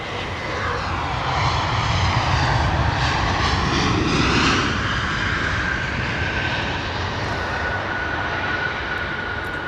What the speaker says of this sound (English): Comes up British Airways A380.